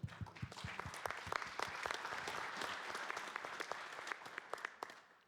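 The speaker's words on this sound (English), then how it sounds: "please have a round of applause for all of them" Steady applause from a crowd, many hands clapping densely and evenly for several seconds before tapering off at the end.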